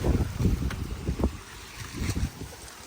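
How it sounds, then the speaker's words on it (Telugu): Strong wind buffets the microphone in uneven, rumbling gusts outdoors in snowy Korea, rising and falling with no voices present. "గాలి భయంకరంగా ఉంది"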